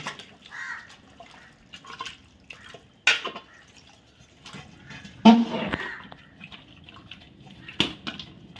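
Water poured into a large pot of masala-coated chicken for biryani, with soft intermittent splashes and drips, a few sharper clunks and quiet gaps between pours, fairly faint and close.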